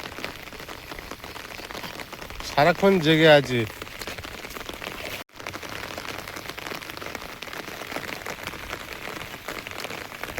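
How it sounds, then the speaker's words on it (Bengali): Heavy rain pours steadily in a constant hiss around a fish pond, while a voice speaks briefly near the start over the downpour. "আর যা বৃষ্টি শুরু হয়েছে"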